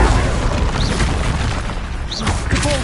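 Bombarda spell detonating in the Hogwarts Legacy video game during a troll fight, a dense, sustained crashing roar of blast and debris filling the whole moment, loud and close with no clear pauses.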